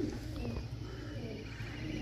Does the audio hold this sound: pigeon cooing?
yes